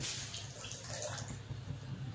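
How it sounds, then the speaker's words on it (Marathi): Water from a glass pours into a cooking pot while making sugar syrup in a home kitchen, a short, quiet, continuous trickling splash. "1 ग्लास पाणी ओतलंय"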